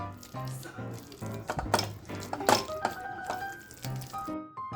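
Mashed potatoes and pav bhaji being worked with a masher in a metal pan give a close string of irregular clanks, knocks and squelchy thuds, with a few sharper metallic hits.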